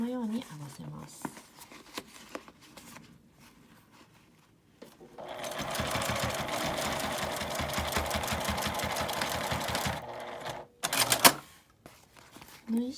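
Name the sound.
sewing machine stitching a zippered toilet paper case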